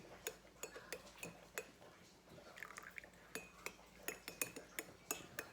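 A spoon stirs a cup of herbal tea or tisane, giving a run of sharp, fairly regular clinks against the cup with faint liquid swirling between them, close and moderately quiet.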